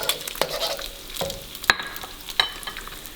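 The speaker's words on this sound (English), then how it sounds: "I'm gonna wait a little bit just for egg to cook in the bottom before I stir in" Three eggs frying in a very hot wok for Thai basil fried rice with shrimp, a crackling sizzle punctuated by a few sharp metallic clinks of a spatula on the wok, close and with no speech.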